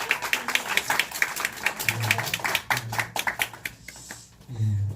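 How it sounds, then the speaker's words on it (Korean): A church congregation at a youth dedication service claps in a dense, uneven burst for a few seconds, fading out near the end while a low murmur of voices carries through the room. "박수 한번 하겠습니다"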